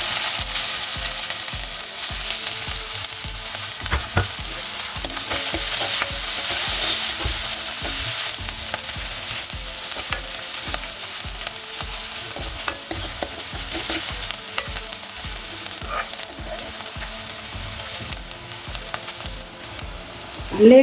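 Onions sizzle and fry steadily in a pan for an eggplant bharta, with frequent scraping stirs of a spatula throughout, close and continuous, and no talking.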